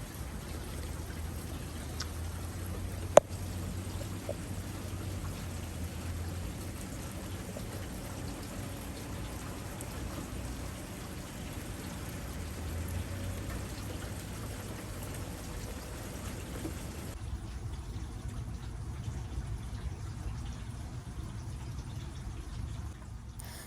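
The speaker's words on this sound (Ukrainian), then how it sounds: "Я просто обожнюю дощ, особливо зранку, коли я прокидаюся і пасмурно, йде дощик." Gentle morning rain falls steadily outside on an overcast day, a soft continuous patter with faint drips, quiet and even throughout and no one speaking.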